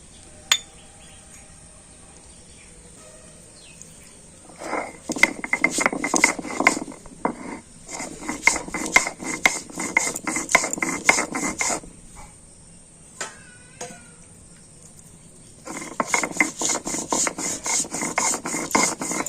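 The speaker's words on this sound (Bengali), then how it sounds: "এখানে আমি নিয়েছি একটু কাজু বাদাম আর পোস্ত তো এটা বেটে নেবো" Cashew nuts and poppy seeds being ground into a paste, a rasping, scraping stone-on-stone grind in repeated bursts of strokes with short pauses between, close and moderately loud with no talking.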